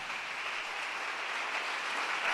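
A church congregation applauds in a dense, even wash of clapping that holds steady at a consistent level with no voices standing out.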